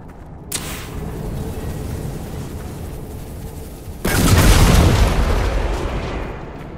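A big explosion in Dragon Age Inquisition bursts in with a loud roaring boom partway through, over a constant rumbling ambience with an earlier sharp crack, no talk.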